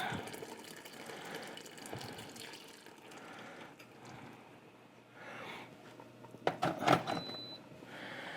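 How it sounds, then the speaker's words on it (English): Boiling water from a kettle pours into a pot of corn being cooked with ash, a soft continuous trickle swelling into a brief louder splashing gush near the end. "you're just going to add boiling water from the kettle right into the pot"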